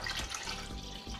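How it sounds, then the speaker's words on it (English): Cold water poured from a vessel into a container of blackberry and rhubarb wine must, a continuous splashing gush that fills the clip and runs steadily for over a second. "So in goes the rest of the water, cold water."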